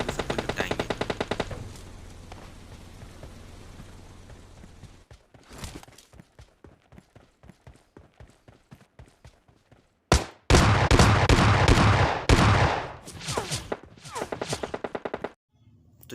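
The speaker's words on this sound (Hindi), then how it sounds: "वाटर सिटी से भी बहुत सारे गन शॉट के मतलब मेरे ऊपर गन शॉट आ रहे थे" Gunfire in PUBG Mobile Lite on the snow map: rapid automatic bursts and scattered single shots, then a loud sustained volley of fire, and a final run of quick shots near the end. No one speaks.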